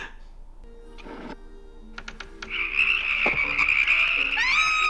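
Frogs croak in a swampy fantasy animated film scene. Scattered calls at first build into a dense, loud chorus of overlapping croaks by the second half.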